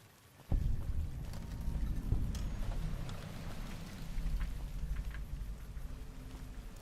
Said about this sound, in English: Why is it raining again?